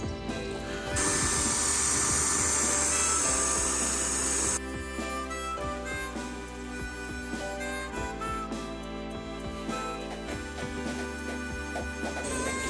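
Paint sprayer forcing paint through a nozzle set crosswise while a remodel crew coats cabinets: a loud, steady hissing spray burst lasting a few seconds, then a quieter motor hum with light clatter.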